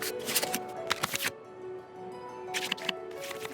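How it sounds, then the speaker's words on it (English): Cards from a Genshin Impact card game are shuffled back into the draw pile, heard as two quick bursts of riffling separated by a short quiet pause. "we can select any number of cards in our hand to shuffle back into the draw pile, and then draw the same number of new cards"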